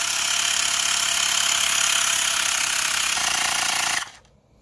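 A pump inflates the rear tire of a Trikke Defender, a loud, continuous mechanical buzz that holds steady for about four seconds and then stops abruptly.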